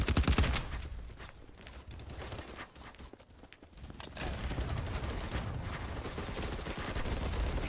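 Gunfire in the video game Battlebit Remastered during a night map fight, a dense, continuous crackle of rapid shots and bursts with a brief lull in the middle before the volley resumes steadily.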